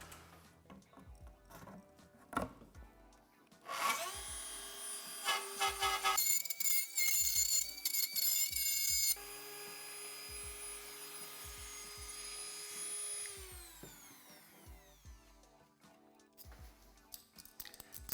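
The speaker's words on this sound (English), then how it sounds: "I'm going to try to use the circle attachment on the Dremel here again, see if I can just cut a circular hole." A Dremel rotary tool fitted with a circle-cutting attachment carves a round hole for an electric car charger install, with a high whining buzz over several seconds, a brief stop, then a longer steady grind that winds down, amid handling taps.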